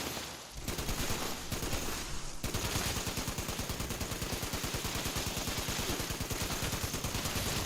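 Rapid automatic gunfire in the video game Fallout 76, a loud continuous burst of fast repeating shots after a few short opening bursts, with no talking.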